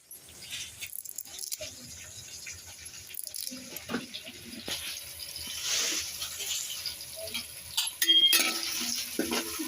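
Sliced onions and curry leaves frying in a pan for Nellore fish curry, with a spoon scraping and stirring in irregular bursts over a soft, steady sizzle.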